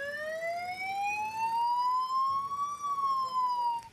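An ambulance siren in Benin wails loudly in one long, slowly rising and falling tone that holds for several seconds, clear above a faint background.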